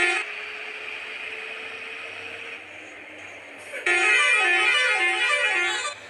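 A vehicle horn sounds from a fully modified Dorado Turbo: a sustained tone at first, then a louder, harsher multi-tone blast that begins about two-thirds through and holds to the end.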